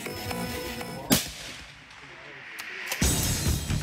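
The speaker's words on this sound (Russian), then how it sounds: "На этих кадрах американские снайперы соревнуются в стрельбе из новой винтовки Марк-22 «Барретт»." A Barrett Mk22 sniper rifle fires two loud, sharp shots about two seconds apart during a US sniper shooting competition, each crack followed by a short echoing tail.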